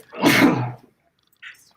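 A man sneezes once, loud and close, a sharp burst that fades quickly and is followed by a brief faint sniff.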